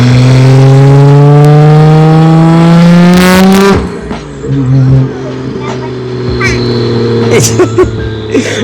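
Nissan Skyline R32 GT-R engine revving hard under acceleration, its rising pitch loud and close, then cutting sharply at a gear change before pulling again with tire and road noise, while people talk over it.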